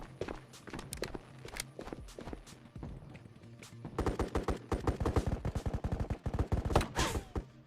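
Gunfire during a shooter video game raid, sharp rapid bursts of shots that turn into dense, continuous volleys in the second half, with footstep-like thuds mixed in.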